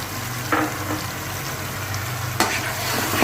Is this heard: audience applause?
no